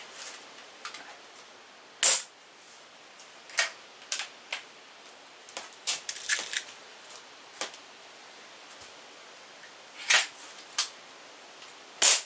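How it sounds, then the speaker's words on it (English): A Stoeger X3 Tac air rifle fires a handful of quiet, sharp shots fresh out of the box, each a brief snap spaced irregularly over near silence with a few softer clicks between. "now I'm going to fire a couple of shots just out of box"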